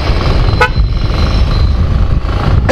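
An aftermarket dual-tone highway horn on a motorcycle gives two short, loud blasts, one near the start and one at the end, over a steady engine and road rumble.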